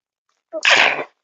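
A single sharp human sneeze, close and fairly loud, with a brief inhaled lead-in followed by a burst, then silence.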